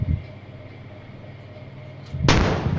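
A steady low rumble runs for a couple of seconds, then a sudden loud, crackling missile explosion erupts near the end in the game Indian Bikes Driving 3D.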